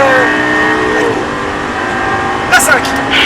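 A Lamborghini engine pulls hard on a racetrack, its steady rising drone loud and close, with a short sharp spike near the end.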